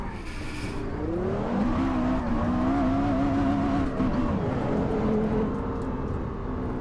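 A Porsche Carrera GT engine runs loud and close, its pitch rising and then holding in a steady wavering drone for several seconds with no talk.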